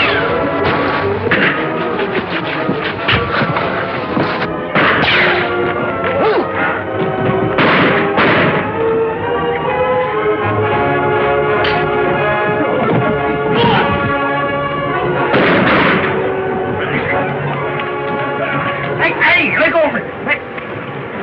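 Old western TV fight scene with repeated revolver gunfire, sharp shots and bangs scattered irregularly among dramatic orchestral music, shouting and talk.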